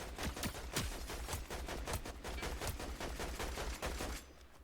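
Mythic Deadeye assault rifle in Fortnite, tap-fired in a rapid even string of sharp shots for about four seconds before stopping, loud and close over game background noise.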